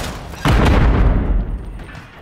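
A grenade goes off in Call of Duty: Modern Warfare III, a single loud, close boom with a sharp onset that rumbles and decays over about two seconds.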